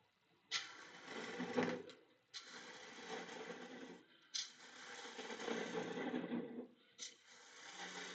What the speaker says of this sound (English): get rid of some of this with the bowl gouge first